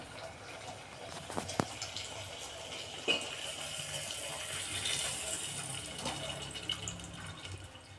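Water poured into a sambar cooking pot on a home stove, a steady gushing, splashing pour lasting several seconds with a few sharp clinks, fairly close and moderately loud, with no talking.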